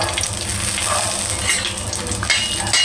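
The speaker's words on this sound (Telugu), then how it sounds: "ఎండుమిరపకాయలు వేగిపోయింది, పక్కకు తీసేస్తాం" Dried red chilies fry in a hot pan with a dense, continuous sizzle and crackle, close and fairly loud, with occasional stirring scrapes.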